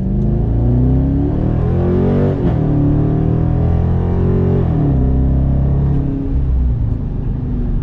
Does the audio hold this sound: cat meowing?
no